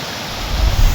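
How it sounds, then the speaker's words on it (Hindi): Waterfalls pour down the slopes of Anjaneri mountain near Nashik in torrential monsoon rain, a loud, steady, broadband rush of water with no voices. "चोटियों से ढलान की तरफ झरने फूट पड़े।"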